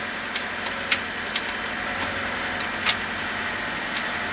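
A Honda Civic engine idles steadily at close range while the car is shifted into reverse, with a few faint ticks and clunks over the even hum.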